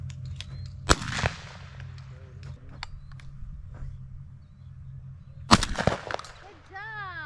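Two loud shotgun blasts fire several seconds apart while dove hunting at a feedlot in Mexico, each a sharp crack with a short tail, with quiet mechanical creaks and a voice in between.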